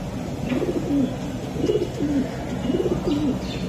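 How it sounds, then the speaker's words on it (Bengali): A racing pigeon coos in three repeated rolling phrases, each a soft throaty warble, close by and clear with no talk over it. "খুব ভালো একটা কবুতর"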